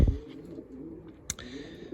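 Sport pigeons cooing softly inside a pigeon loft, low murmuring coos close by with a brief rustle at the start and a sharp click midway.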